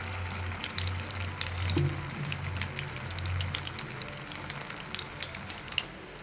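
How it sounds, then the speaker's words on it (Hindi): Potato tikkis fry in a pan with a constant crackling, spitting sizzle full of fine pops, moderately quiet and close, over a low steady hum, with no talking. "अब हम इनको बगैर कुछ लगाए फ्राई करते जाते हैं।"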